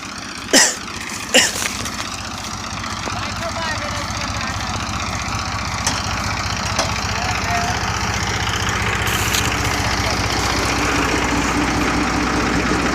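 A tractor engine runs steadily while sowing with a zero-till drill in a field, a continuous droning rumble that grows slightly louder over time, with a couple of brief knocks near the start.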